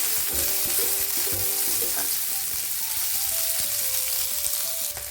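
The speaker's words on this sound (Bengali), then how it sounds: "সবগুলো আমি দিয়ে দিলাম পেঁয়াজ আর নারকেল রসুন আদা কাঁচা লঙ্কা সব আমি দিয়ে দিয়েছি এটা এখন লাল করে প্রথমে ভেজে দেব" Onion, coconut, garlic, ginger and green chili frying together in oil, a loud continuous sizzle with clinks and scrapes of a utensil stirring the pan, no voices.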